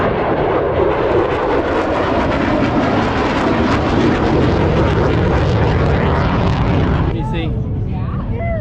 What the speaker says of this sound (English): these jets scream by and it sounds as if the sky itself is ripping in